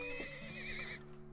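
A horse neighs in the oil-drilling video game Turmoil, a single long, wavering whinny heard clearly and up close, with no talk over it.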